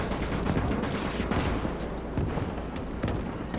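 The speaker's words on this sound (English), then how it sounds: "The machine guns here are active." Sustained battle din in the Gates of Hell war game on the Mannerheim Line at Lähde, with dense rattling gunfire that fits machine guns, layered with booms and explosions in a loud, continuous wall of combat noise.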